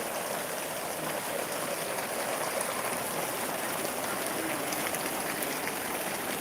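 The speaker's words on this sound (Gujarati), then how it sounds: "આ છે લાઈવ વરસાદ મિત્રો" Steady, dense rain falls continuously at Dasada in Surendranagar, a loud even hiss with no gaps and no voices.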